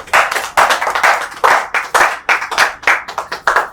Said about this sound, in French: Est-ce qu'on peut applaudir pour Vini, s'il vous plaît?